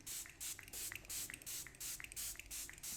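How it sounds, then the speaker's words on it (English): Face mist spritzes from a spray bottle in a quick series of short, soft hisses, about a dozen evenly spaced pumps, close and quiet with no talking. "So I'm just going to spray my face with a mist."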